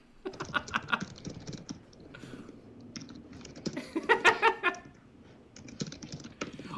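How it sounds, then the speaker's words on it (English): Keys clatter on a computer keyboard in quick, uneven bursts of soft clicks, with a busier flurry midway through, close and fairly quiet with no voices. "Lottie says, typing to ChatGPT."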